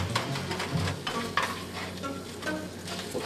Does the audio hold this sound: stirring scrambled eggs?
yes